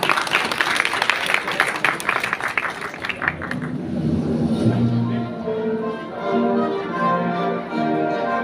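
Audience applause rings out at an installation ceremony for a Tainan small and medium enterprise association. It is a dense burst of clapping that fades after a few seconds into background music.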